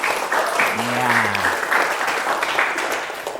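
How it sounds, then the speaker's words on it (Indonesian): Applause from students in a classroom, moderately loud and continuous, with a brief voice speaking over the clapping. "Kita berikan aplaus tepuk tangan kepada teman kita."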